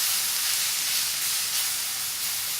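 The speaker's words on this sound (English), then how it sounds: "after our peppers and onions have been sauteing, I'm just going to add this beef back just to get everything mixed together" Peppers, onions and beef sautéing in a pan, a loud, steady, close hiss of sizzling without pause or talk.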